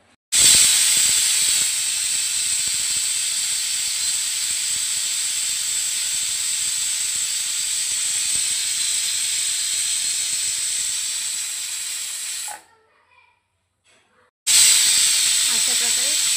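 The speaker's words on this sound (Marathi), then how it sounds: "आता आपण याच्यावर झाकण लावून याला 4 ते 5 शिट्ट्या होऊ देऊ." A pressure cooker on a high gas flame cooking Hyderabadi buti ka salan lets out a long, loud, continuous steam hiss with a sharp whistle tone, then cuts to near silence before the hiss bursts back.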